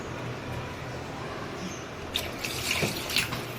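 Faint background hiss, then water splashes and trickles into a pot of potatoes and sweet pumpkin for khichuri for about a second and a half, close and moderately loud.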